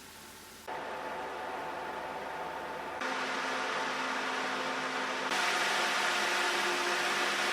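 Hyte THICC FP12 120mm PC fan spinning at full speed, a steady broadband whoosh of airflow with a faint tonal hum, stepping up in loudness twice as the recording goes on, close and alone.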